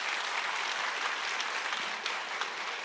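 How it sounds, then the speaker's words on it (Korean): A church congregation at a Sunday afternoon worship service claps in encouragement, a soft, even wash of applause heard from a distance and sustained without a break. "이분들에게 격려의 박수를 좀 할까요?"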